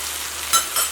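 Turmeric powder dropping into ivy gourd and potato frying in a pan, a steady close sizzle with two brief louder bursts of crackle as the spice hits the hot oil.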